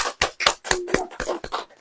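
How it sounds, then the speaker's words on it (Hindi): Soft hand clapping during a church sermon, about eight gentle claps in a steady, even rhythm, close by and heard alone. "एक धीरे से भी ताली बजती है"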